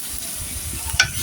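Spices sizzling steadily in a pan, frying before eggs go in for a village-style sour-hot mrigel fish curry with mango. A continuous close hiss runs throughout, with one brief scrape of stirring near the end.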